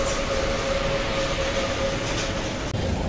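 A Dhaka metro rail train rumbles steadily close by, with a sustained whining tone over a broad roar, continuous throughout and free of talk.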